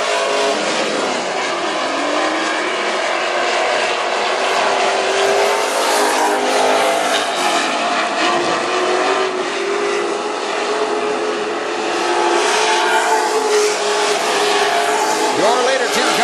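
WISSOTA Super Stock race cars roar around North Central Speedway in a heat race, their engines loud and continuous with rising and falling revs as the pack passes close.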